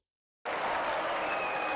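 Applause in a video game courtroom starts abruptly after a short silence and holds steady, a dense even wash of clapping with a faint tone running through it.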